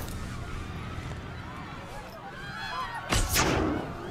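A sharp gunshot in the dinosaur park game Jurassic World Evolution, a sudden loud burst near the end of a stretch of low ambient rumble, with someone talking in German over the scene.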